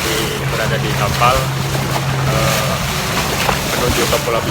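A boat engine drones steadily and loudly at sea on the way to Pulau Pisang off the west coast of Lampung, with wind noise and a voice talking over it.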